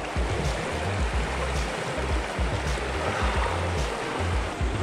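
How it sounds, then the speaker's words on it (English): A clear winter river where Coho salmon are caught in Washington, its current rushing in a steady, full-bodied wash of water with no voices over it. "Here we are, beautiful, crystal clear river."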